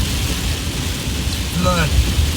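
Steady heavy rain pours outdoors on a cold 41-degree day, with a low rumble of thunder rolling in near the end, continuous and fairly loud.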